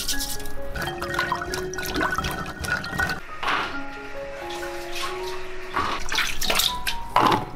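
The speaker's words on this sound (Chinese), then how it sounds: "橄榄里面加入2勺盐，搓洗干净。" Olives rubbed and scrubbed with salt in a basin of water, with steady close sloshing and splashing throughout under soft background music.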